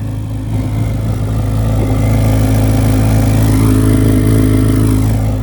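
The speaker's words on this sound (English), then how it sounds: "That exhaust is menacing." A deep, rumbling V8 exhaust from a 2024 Chevrolet Corvette Z06 Convertible idles steadily and loudly, with a low throbbing burble that swells slightly as it revs, heard close up with no talking.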